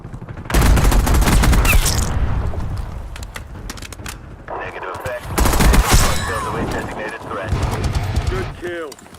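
Heavy video game gunfire comes in loud, dense rapid bursts, with automatic fire, booms and mechanical clatter and short lulls between volleys, while voices talk over it.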